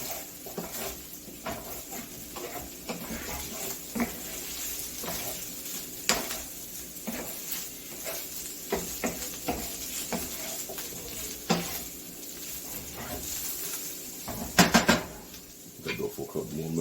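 Potatoes and an egg frying in a moving pan, with a steady sizzle under stirring, scraping and occasional clanks of metal cookware, close and continuous.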